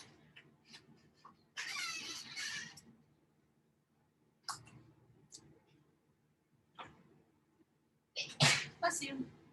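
A single loud sneeze bursts out late in a quiet indoor math lesson, following a stretch of sniffles, breaths and scattered small noises, with brief talk earlier on.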